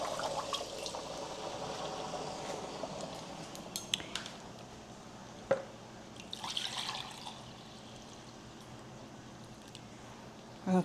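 Bean cooking water is poured into a pot for rice in a kitchen, a soft liquid stream accompanied by faint clinks of utensils and cookware, with a brief clatter near the end.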